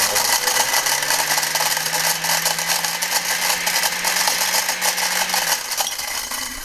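Kitchen blender running with a box of paperclips inside, a loud, harsh metallic rattle and clatter over a steady motor whine, continuous for several seconds before the motor winds down.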